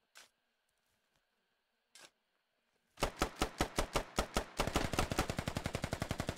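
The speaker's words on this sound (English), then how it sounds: "They're just straight wall banging right there. Just bullet penetration through the wooden door." Rapid gunfire in the tactical shooter game Squad, bullets punching through a wooden door: a couple of isolated single shots, then a loud, steady burst of rhythmic automatic fire that grows denser and faster toward the end.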